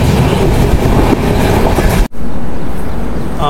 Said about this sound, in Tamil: ஒரு ட்ரெயின் வந்துகிட்டு இருக்கு.